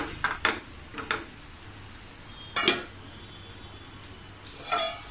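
Mushroom matar masala sizzles softly in a covered pan, with a few sharp clinks and scrapes of the lid and utensil standing out over the quiet background.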